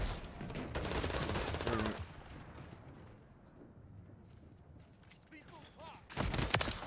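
Bursts of rapid gunfire from a video game crackle loudly at the start, fade into a rumbling, muffled exchange, then erupt again near the end. A voice is heard faintly under the shooting.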